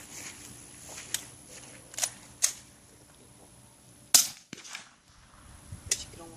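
Suppressed gunshots fired outdoors near water, several sharp muffled cracks spaced a second or two apart with one louder report in the middle, faint background hiss between shots.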